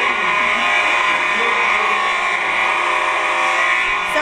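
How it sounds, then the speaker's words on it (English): Hotel fire alarm sounding indoors during an evacuation, a steady, harsh electronic buzzing tone that holds unbroken for several seconds at fairly high volume, with a voice talking faintly underneath. "One of my nephews pulled the fire alarm."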